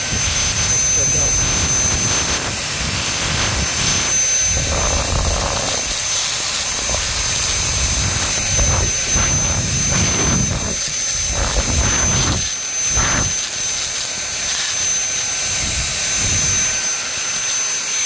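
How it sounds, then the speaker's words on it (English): A loud, constant vacuum cleaner roar with a high whine, shifting slightly as it moves while cleaning dirt from a Revox B77 MK II tape recorder, while a person talks over the noise. "So the vacuum cleaner will just pull"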